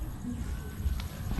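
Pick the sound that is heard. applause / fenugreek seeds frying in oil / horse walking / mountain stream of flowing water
horse walking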